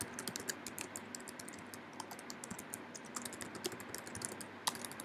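Fast, steady typing on a computer keyboard during a competitive online game, with dense, continuous key clicks throughout and a slightly louder keystroke near the end, close and clear.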